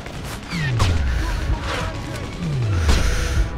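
Gunfire in the shooter game Sniper Ghost Warrior 2: bursts of shots and impacts with falling whooshes, close and punchy, mixed with shouting voices.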